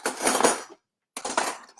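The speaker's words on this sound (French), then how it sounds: "Je vais chercher une cuillère." Metal cutlery rattles close and fairly loud as a spoon is fetched for an avocado toast. Two bursts of clinking are separated by a short silence.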